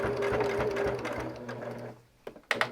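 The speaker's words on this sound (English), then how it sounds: "I'm pulling it out and I'm going to back stitch." Sewing machine back-stitching a batik quilt throw, a steady close mechanical whirr with rapid needle pulses that stops near the end, followed by a couple of small clicks as the fabric is handled.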